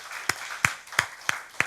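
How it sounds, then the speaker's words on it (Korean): Five evenly spaced, sharp hand claps ring out at a church live Q&A session. They sound moderately loud, with no talking over them. "우리 하나님께 영광의 박수 올릴까요?"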